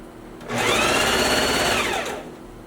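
A sewing machine stitching the double seams of a flared skirt, one steady burst of fast, even whirring lasting about a second and a half, close and clear with a soft start and stop.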